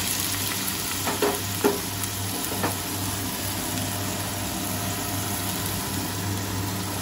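Carrots fry in hot oil tempered with five-spice seeds, a steady loud sizzle throughout, with a few brief utensil knocks near the start.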